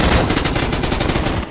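Gunfire from a sniper rifle in the shooting game Gunfight Arena rattles out as a loud, rapid string of sharp shots packed close together, alone without talk.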